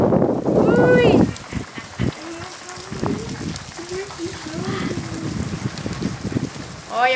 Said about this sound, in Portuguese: Olha que chuva, muita chuva.